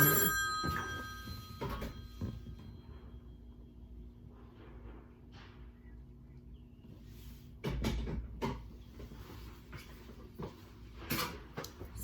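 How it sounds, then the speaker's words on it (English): A telephone bell rings in repeated bursts, loud and close at the start, then again after a quiet stretch in the middle, with faint room noise between rings. "Phone's ringing."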